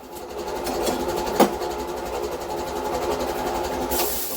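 Air compressor running steadily in a workshop beside an old JAP two-stroke engine, a continuous mechanical hum and rattle with one brief sharp knock partway through.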